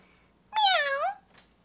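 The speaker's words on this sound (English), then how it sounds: "It's a kitty kitty, a kitty cat or a kitten." A single clear cat meow, drawn out and rising then falling in pitch, close and loud against a quiet background, followed by a faint brief sound.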